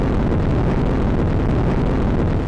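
Rocket engines ignite at a space launch, a loud, dense, continuous roar with rumbling low end that fills the whole moment without letup.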